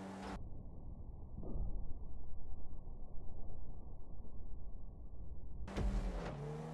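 Car engine in a GTA V online street race, heard as a steady mid-pitched drone that holds at a constant level for several seconds. Brief brighter bursts from the game come at the start and the end.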